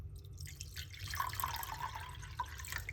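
Water pours into a container for a cup of water, a splashing, trickling flow with a dripping sparkle over a steady low rumble, close and fairly quiet.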